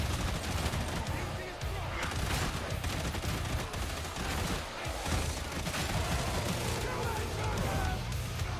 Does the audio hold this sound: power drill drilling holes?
no